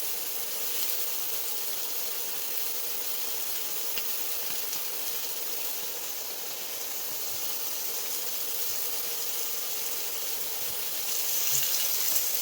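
Chicken fajita meat sears in a hot sizzle pan, giving a steady, bright, close sizzle and hiss with faint crackles throughout.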